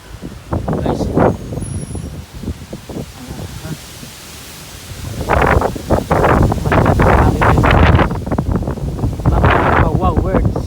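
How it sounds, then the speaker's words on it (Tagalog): Strong wind buffets the microphone with rough, gusty rumbling while a person talks over it. "Masyadong mahangin dito."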